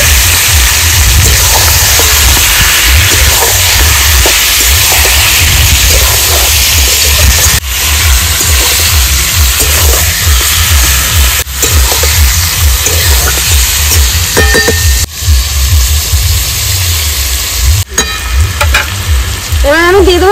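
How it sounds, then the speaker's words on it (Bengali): Marinated country chicken added to medium-fried onions sizzles loudly and continuously in a pan, with occasional stirring scrapes and clatters. "আমি দিয়ে দেবো ম্যারিনেট করা মাংসটা।"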